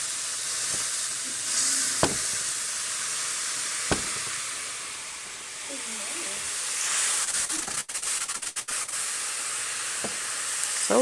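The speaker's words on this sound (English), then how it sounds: "You hear that sizzle" Steady hissing sizzle of food frying close by, with a few sharp clicks and clatters and brief muffled movement over the constant crackle.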